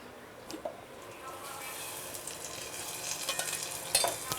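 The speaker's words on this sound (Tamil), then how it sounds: "இது வந்து தேங்காய் எண்ணெயில் தாளிச்சிக்கலாம்" Mustard seeds and curry leaves tempering in hot coconut oil, a crackling sizzle that builds steadily, with scattered pops and a few utensil taps, close and moderately quiet.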